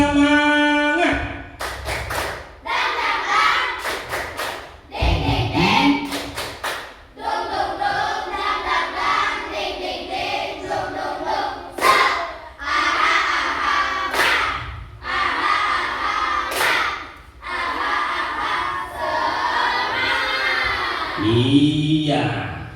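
A class of pupils performs a rhythmic clapping chant in an Islamic religious education lesson, loud sharp claps in patterned bursts with shouted voices, filling the room near and continuous.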